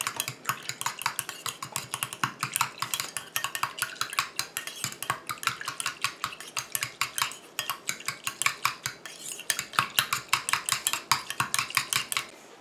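A rose and orchid face mist mixture is stirred briskly in a container, producing a rapid, steady series of light clinking and tapping strokes, close and continuous with brief pauses.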